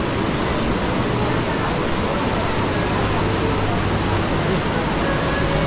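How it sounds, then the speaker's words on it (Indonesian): Lembah Anai waterfall, fed by water from Mount Singgalang, roars as a steady, dense, broadband rush that stays constant and close throughout. "air terjun Lembah Anai."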